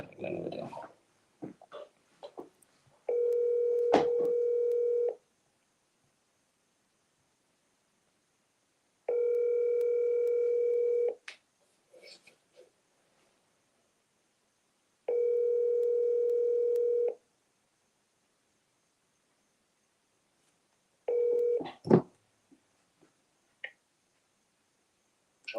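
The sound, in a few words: telephone dial tone and dialing for a call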